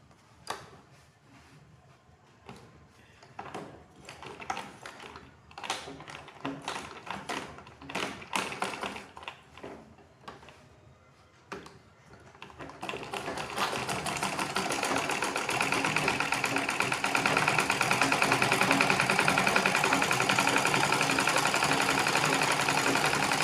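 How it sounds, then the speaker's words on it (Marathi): A sewing machine stitches a purse, first in short tapping bursts, then in a long loud continuous run that builds and holds steady until the end. "तर दुसऱ्या बाजूला शिलाई मारून घेऊया."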